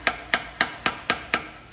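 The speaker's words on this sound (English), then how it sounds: "I'm going to use a hammer and a straight screwdriver. I got to break the seal loose" A hammer striking a straight screwdriver to break a silicone seal on a Mazda Miata engine's windage tray, six sharp, evenly spaced metallic taps, close and clear with no talking.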